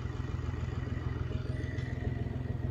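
Engine cranking over on the starter during a compression test, a fast steady rhythmic chugging pulse, close and continuous, no voices.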